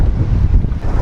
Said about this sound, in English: So windy like this